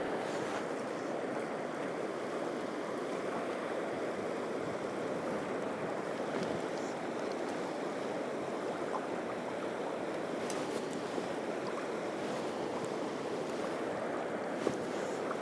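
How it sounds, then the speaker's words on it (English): Steady broadband rush of river water in Swedish Lapland as someone wades out into a deep hole, a continuous close wash with no voices. "I wade out into the deep hole in the river"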